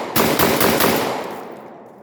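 Lynx 12 AK-style shotgun fired in a fast burst of several loud, closely spaced blasts, with the reports ringing out and decaying over the final second.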